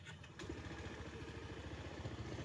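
A 2022 Honda PCX 160 scooter engine idles with a steady, even mid-pitched putter. A brief rise from the start-up can be heard at the very beginning, and the engine then runs on alone at close range.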